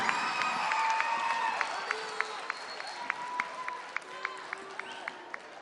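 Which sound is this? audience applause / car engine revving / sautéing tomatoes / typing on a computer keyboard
audience applause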